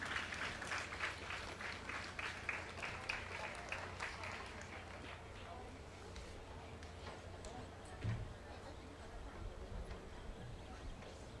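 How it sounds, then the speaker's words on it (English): An audience applauds at a school S.T.E.A.M. fair as children come up to receive awards, steady clapping from a crowd indoors that fades out partway through under a low hum of the room. "let's give them a round of applause as they come"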